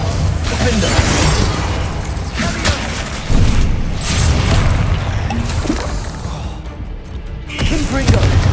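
Confringo and Incendio spell blasts in Hogwarts Legacy go off in a rapid series of loud booms, thuds and crashes with mechanical clatter over eight seconds of combat, close and dense, and voices are heard among the impacts.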